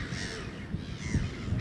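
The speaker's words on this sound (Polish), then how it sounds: "Mewa szarogłowa jest gatunkiem siostrzanym mewy śmieszki." A grey-headed gull in the Gambia gives harsh, raspy calls, several croaking cries in quick succession, fairly close and clear with no talk.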